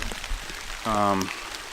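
Rain falling on the Grubb Ridge Trail in Indiana, a soft constant patter of drops under a brief harmonic voice-like sound in the middle.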